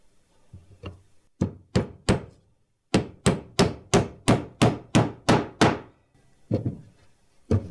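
Nails hammered into a wooden farmhouse crate: sharp, close hammer blows, a few scattered strikes and then a fast, steady run of about ten evenly spaced hits, followed by a few more. No voices are heard.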